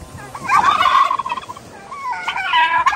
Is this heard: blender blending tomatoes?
no